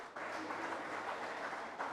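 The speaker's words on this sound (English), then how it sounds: "Another round of applause for her," Audience at a colloquium gives a brief round of applause, a dense, even patter of many hands clapping for a speaker, heard faintly as if from a distance.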